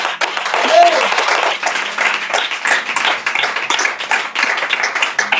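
A church congregation bursts into loud, sustained applause during a sermon. Voices mix in with the clapping.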